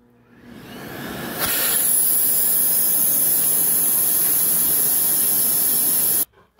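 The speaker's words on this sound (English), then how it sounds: "Here we have Miele's Blizzard, its bagless vacuum cleaner." A Miele Blizzard bagless vacuum cleaner switches on with a rising whine, then roars loud and steady with a high-pitched airflow hiss for several seconds before cutting off abruptly.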